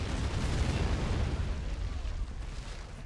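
A heavy artillery gun fires in Men of War Assault Squad during a 1944 US beach assault on Guam, a deep rumbling boom that rolls on loudly and slowly fades, with no talk.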